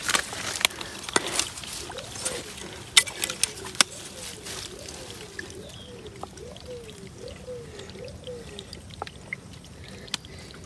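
Water pours out of a village spring in a faint, steady trickle and gurgle, with someone talking nearby over it.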